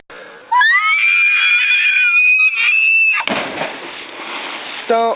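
A person screams while jumping off a cliff, a long rising shriek held for about three seconds and then cut off by a burst of rushing noise, loud and close.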